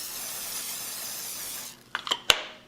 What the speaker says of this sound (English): It's a non-stick cooking spray